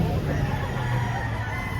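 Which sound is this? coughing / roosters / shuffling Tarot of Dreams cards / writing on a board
roosters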